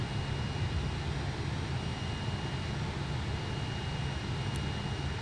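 JustFlight F-28 jet airliner engines in a flight simulator, a steady broadband rumbling drone with a low hum, held constant and alone without talk.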